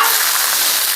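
Beef steaks fry in a hot pan with a loud, dense, continuous sizzle that holds steady and close throughout, with no voices.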